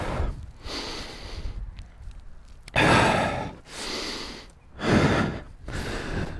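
Heavy, forceful breaths and sighs during a cardio yoga workout come in loud bursts close to the mic, separated by short quiet gaps.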